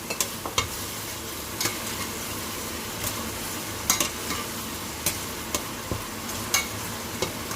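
Spices, tamarind and chopped ginger being stirred together in a hot pan: a soft continuous sizzle broken by regular sharp scrapes and taps of a spoon against the pan, close but fairly quiet, no talking.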